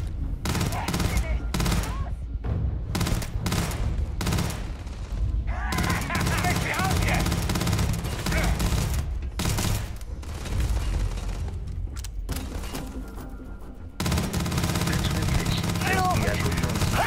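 Gunfire erupts in the Starfield space game, rapid bursts of loud close shots in repeated volleys separated by brief pauses, with scattered voices talking between the firing.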